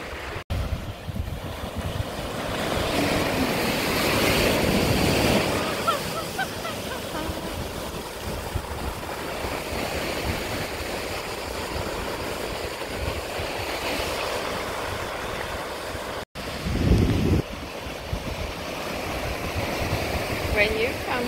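Surf washing onto Punalu'u black sand beach on Hawaii's Big Island, a steady broadband rush of waves mixed with gusty wind buffeting the microphone, swelling in places with a brief louder burst near the end.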